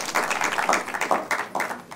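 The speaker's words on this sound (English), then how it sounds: "A round of applause to all of them." Applause from the audience at a university law quiz semi-final between University of Ghana and King's University College, a steady mass of claps held for the full two seconds without pause.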